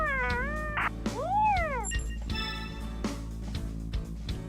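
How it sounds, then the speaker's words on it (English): A cat meows several times in the video game Tokyo Twilight Ghost Hunters: a few rising and falling cries close together, clear and moderately loud over a low steady game background hum. "What's this kitty cat doing?"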